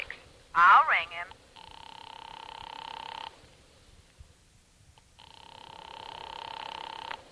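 After a brief voice, a telephone rings in two long, even bursts separated by a pause of near silence, in a 1952 radio drama.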